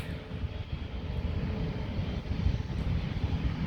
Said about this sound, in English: And this is an Airbus A350.